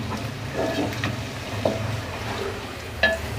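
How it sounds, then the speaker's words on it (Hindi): Garlic ginger paste frying with browned onions in a pan, a quiet steady sizzle with faint stirring and a couple of light clinks. "इसको डालकर 1 आध मिनट के लिए भून लेंगे इसको"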